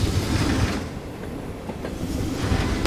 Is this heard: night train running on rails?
yes